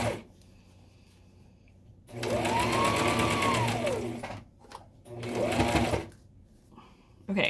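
A sewing machine stitches fabric mask pieces together in two steady bursts, about two seconds and then one second long, close and loud, with quieter pauses around them.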